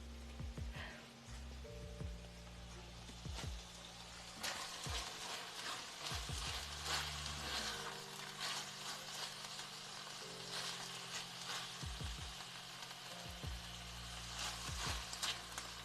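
Shrimp fry in a pan with a soft, continuous sizzle, punctuated by occasional scraping and tapping as they are stirred; quiet and close, with no talking.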